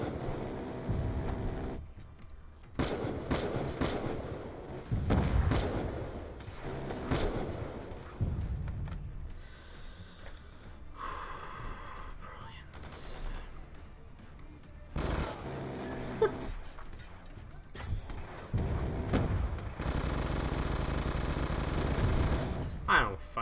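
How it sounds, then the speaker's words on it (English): Video game gunfire in Black Ops 2, with repeated loud bursts of automatic and single shots in irregular clusters, along with explosions and other game effects across the scene, interrupted by brief lulls. "Someone's shooting at me."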